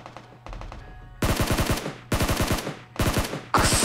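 Automatic gunfire in the mobile battle-royale game PUBG Mobile comes in several loud, rapid bursts with short gaps between them. It starts softer and grows louder, and no one talks over it.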